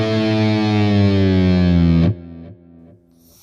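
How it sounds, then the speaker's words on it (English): A heavily distorted electric guitar plays a lead fill from a song: a loud sustained, bending note that cuts off, followed by a few quieter plucked notes with pull-offs, with no voices. "So the first lead fill sounds like this."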